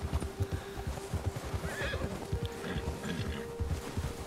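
A spooked horse in the video game Red Dead Redemption 2 whinnies loudly in a long, wavering neigh, with steady clip-clop hoofbeats throughout and no talking.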